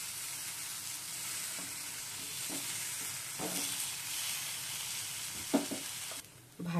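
Cabbage egg patties fry in a pan on low heat with a steady, close sizzle, broken by a few soft taps and a brief clatter near the end.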